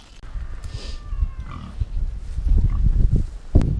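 Meat pigs on a farm grunt and snuffle in a low, busy jumble, with a few scattered higher squeals and one sharp knock near the end, close and fairly loud.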